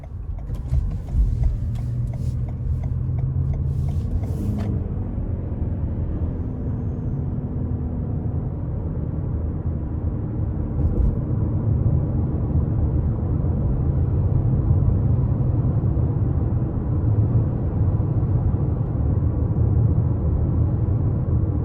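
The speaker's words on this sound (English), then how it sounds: "we're gonna go ahead and take this Venza out on the road for a test drive" A 2021 Toyota Venza Limited hybrid on a road test drive gives a steady low cabin rumble of tyre and road noise that builds slightly, with a few faint clicks early and no talk.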